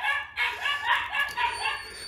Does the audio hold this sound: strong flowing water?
no